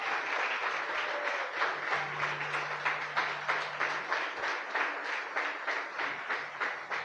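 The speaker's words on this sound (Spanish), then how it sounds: "Dale un fuerte aplauso al Señor." Church congregation clapping loudly and continuously in a steady rhythmic pulse during a sermon, a dense wash of many hands filling the sanctuary with no voice over it.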